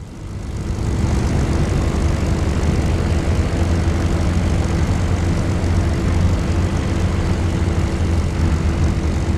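An aircraft engine in a flight combat game roars loudly with the cockpit open, a dense steady propeller drone that swells in during the first second and holds constant, with no talk.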